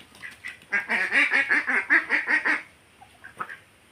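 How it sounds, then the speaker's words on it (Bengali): Ducks crowding around a plate of rice call out in a rapid run of loud, close nasal quacks for about two seconds, followed by a few softer scattered quacks. "এই যে হাঁসগুলো দেখো কেমন করে আছে, দেখো ভাত খাবে মনে হয়"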